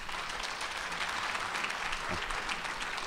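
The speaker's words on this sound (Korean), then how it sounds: "뜨거운 박수로 모시도록 하겠습니다" An audience at a Korean CBMC conference in Tokyo breaks into steady, even applause to welcome a professor to the stage, a dense wash of clapping that holds for the full stretch at moderate distance.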